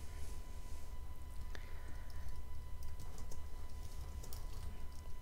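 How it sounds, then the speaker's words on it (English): Quick, light keystrokes on a computer keyboard while entering text in Affinity Designer, soft irregular clicks under a steady low background hum, with no voices. "using the text tool, type in your first and last name"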